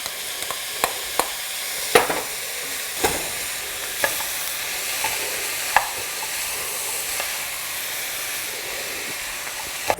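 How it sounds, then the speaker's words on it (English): Onions and sausage cook in a soup pot for Zuppa Toscana, giving a steady broadband sizzle with scattered sharp clicks and scrapes from stirring, close and moderately loud with no talking. "I'm gonna go ahead and add in my onions right now to give them plenty of opportunity to release their wonderful flavor, and go ahead and let them start cooking."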